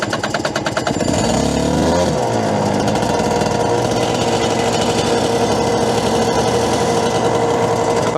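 A race car engine turns over and catches, then settles into a loud, steady high idle with a buzzy, rhythmic tone that holds to the end, with no talk over it.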